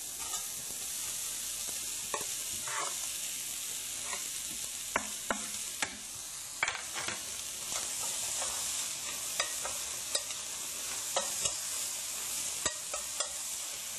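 Pork shoulder and vegetables sizzle steadily in a hot pan while a utensil scrapes and taps the surface now and then, a constant frying hiss with scattered clicks and no voices.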